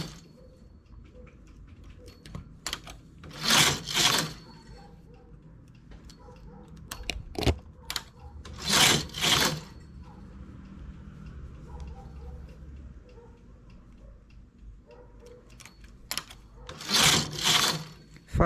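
A knitting machine works a ribbed summer top, its carriage making three loud sweeping passes spaced several seconds apart, with softer clicks and handling noises in between.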